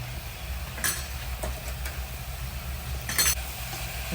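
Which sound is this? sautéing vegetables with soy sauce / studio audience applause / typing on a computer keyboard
sautéing vegetables with soy sauce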